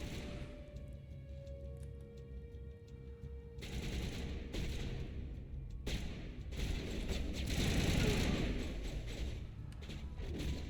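Gunfire in the video game Mass Effect, with dense bursts of rapid shots and heavy thuds that rise into a loud, continuous barrage near the end. A voice can be heard faintly underneath.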